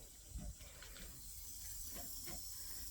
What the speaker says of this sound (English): I hear water coming out of the drain.